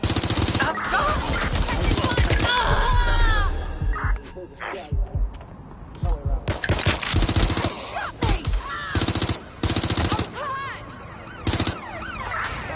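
Rapid gunfire bursts from the video game Watch Dogs Legion crackle loudly and close in repeated volleys, with pauses between them, mixed with game effects and a voice heard under the shooting.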